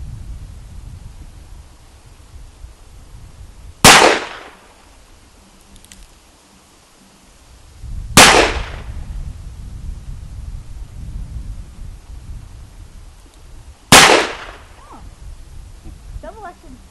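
Three loud, sharp shots from a Smith and Wesson 686 Plus revolver fired double action, spaced several seconds apart, each with a short ringing tail over a low background of outdoor murmur.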